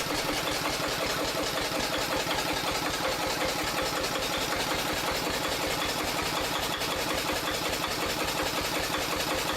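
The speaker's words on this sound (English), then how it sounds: "The Yanmar NT110 is a heavy-duty single-cylinder diesel generator from the mid-20th century, designed for reliable stationary power." A Yanmar NT110 single-cylinder diesel generator engine from the mid-20th century, driving an ST5 alternator, runs steadily with a fast, even chugging pulse, loud and continuous throughout with no voices.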